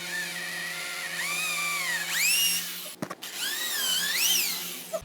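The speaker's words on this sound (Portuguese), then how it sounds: "Fiz o primeiro furo, mais ou menos uns 4 centímetros da ponta para cá." A power drill boring holes into a wooden table leg, whining and rising in pitch as the bit bites, with a brief pause midway before it spins up again, close and fairly quiet.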